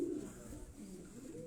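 A high-flying pigeon from a champion breeder's Quetta flock gives a soft, low coo, faint and brief against steady outdoor background noise.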